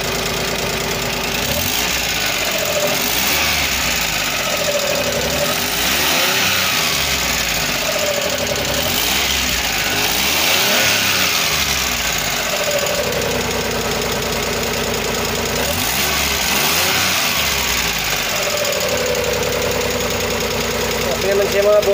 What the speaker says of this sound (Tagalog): Mandar na yung makina. At subukan natin yung RPM